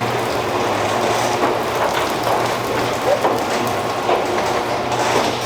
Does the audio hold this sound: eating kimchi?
no